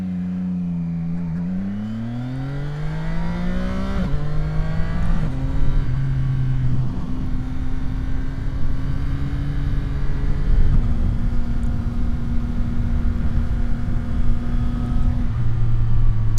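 A CFMOTO 675 SR-R motorcycle engine rises and falls in pitch as the bike rides and slows to pull up, then holds a steady, loud, close idle with brief blips of throttle.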